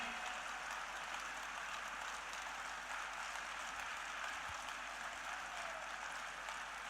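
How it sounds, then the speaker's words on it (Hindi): Loud, sustained applause from a seated audience at a company's 19th anniversary celebration, a dense steady wash of clapping that holds at full strength for the whole stretch without letup. "जोरदार तालियां बजनी चाहिए साथियों, और तेज ताली, जोरदार तालियां बजनी चाहिए"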